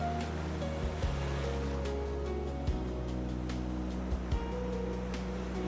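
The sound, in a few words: ocean waves at Unstad Beach, Norway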